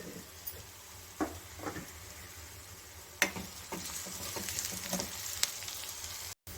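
Salted onions fry gently in a pan, giving a soft, continuous sizzle with a few faint knocks and scrapes from stirring.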